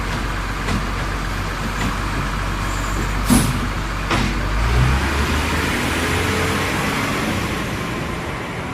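A garbage truck works at the curb, its diesel engine rumbling low and steady while sharp hisses of air brakes and mechanical clunks break in around the middle.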